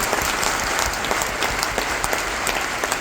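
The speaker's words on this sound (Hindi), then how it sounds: "डॉक्टर लिम के लिए बहुत बड़ी ताली होनी चाहिए" Dense audience applause for Dr. Lim, many hands clapping steadily and loudly throughout with no pause.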